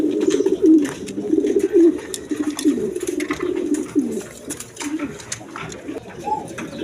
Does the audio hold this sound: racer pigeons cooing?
yes